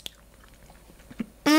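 A few soft, close bites and chews on fufu with vegetable soup and mackerel fish in a quiet room, with a sudden loud swell of noise at the very end.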